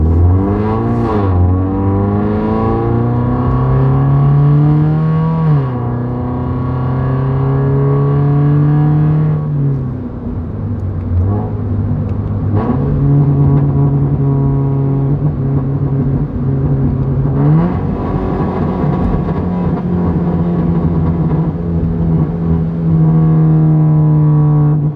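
Subaru BRZ engine revving loudly up close, its pitch climbing through each gear, dropping on a downshift, then rising again on an upshift, steady and continuous throughout.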